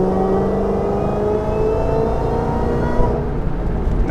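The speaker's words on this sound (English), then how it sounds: "I definitely love the sound of that supercharger." A 2011 Shelby GT500 pulls hard in fourth gear, its supercharged engine droning loud and steady with a rising whine as the car accelerates on an open road.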